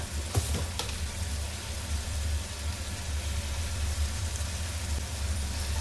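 Mushroom masala sizzles steadily in a pan as it cooks, a continuous soft frying hiss over a low hum, with a couple of brief utensil clicks near the start.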